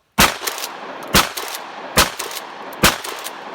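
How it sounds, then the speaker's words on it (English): A Mossberg 500 Bantam 20 gauge tactical youth shotgun has its slide racked hard four times, each a loud, sharp metallic clack at a steady interval, close up with no talking. "see how we have to be real aggressive racking that slide."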